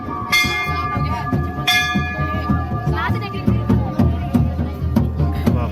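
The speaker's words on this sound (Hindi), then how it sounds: "ये मंदिर की घंटी होती है" Metal bells ring at Surkanda Devi, a Hindu temple in Uttarakhand, in repeated bright clangs that overlap, with long ringing tones and background voices and crowd murmur beneath.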